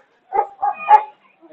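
A dog gives three quick yappy barks close by, then starts another at the very end.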